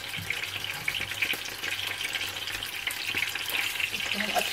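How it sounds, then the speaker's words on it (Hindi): Chicken pieces fry in hot oil for chargha, a continuous bright sizzle and crackle, close and steady with a faint low hum beneath. "दोनों साइड से हमें इसको फ्राई कर लेना है।"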